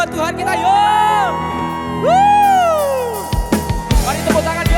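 A church youth service congregation shouts and cheers praise to God, with loud sustained whoops and rising voices, then scattered crowd noise and claps as the cheering breaks up.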